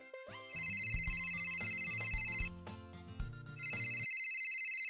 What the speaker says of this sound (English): Is that a phone in my head?